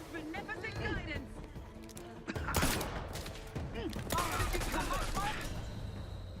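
Video game gunfire as a trooper is shot, several loud bursts of shots mixed with game action and music, with a person talking over it.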